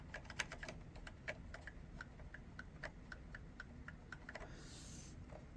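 Typing on an Epson Q303A keyboard with Fujitsu lever action switches gives a quiet, steady stream of light, soft clicks in an irregular rhythm, faint and close, with no talking.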